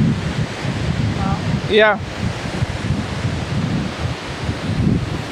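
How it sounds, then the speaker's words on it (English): Roadside waterfall on the route from Luanda to Malanje, Angola, heard as a steady, loud broadband rush that fills the whole clip, with a brief spoken word and a short chirp partway through. "I'm here closer and closer to the waterfall."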